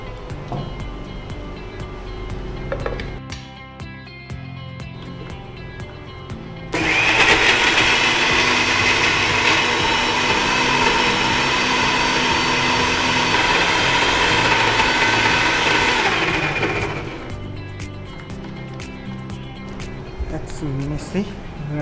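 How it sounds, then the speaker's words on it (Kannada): A kitchen mixer grinder whirs loudly for about ten seconds while grinding a masala of coconut and rice with a little water, then stops. Quieter sounds come before and after the run. "ಈಗ ಮಿಕ್ಸಿಗೆ ಕೊಡಬೇಕಲ್ಲ"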